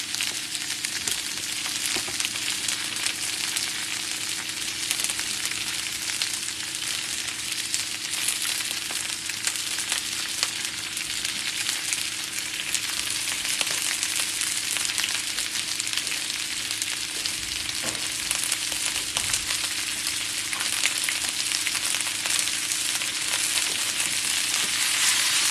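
Honey chicken fries in a pan with ginger and garlic, giving a loud, steady sizzle and crackle that runs without a break, with occasional faint stirring.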